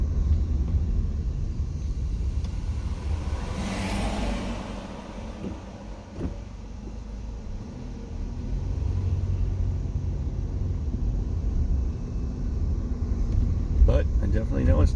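A car driving along a road produces a steady low rumble of engine and tyres from inside the vehicle, continuous throughout with slight swells and a few clicks.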